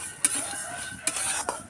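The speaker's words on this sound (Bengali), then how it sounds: "আমার ডাল ভাজা হয়ে গেছে" Lentils dry-fried in a pan on a stove, with a few distinct scraping strokes of a stirring utensil against the pan, faint and spaced apart over a low background hiss.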